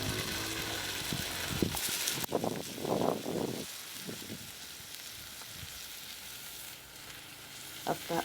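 Tomatoes and green vegetables fry in a pot over a village cooking fire, giving a steady crackling sizzle with a few clattering stirs and scrapes near the start.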